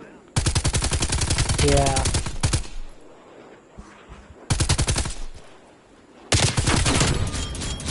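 Automatic weapon fire in a Call of Duty match comes in three long, dense, rapid bursts separated by short pauses, loud and close, with a player's brief voice between shots.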